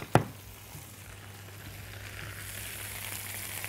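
Onions frying in oil in a pan alongside eggplant and potatoes, a sharp knock at the start followed by a continuous soft sizzle that gradually grows brighter.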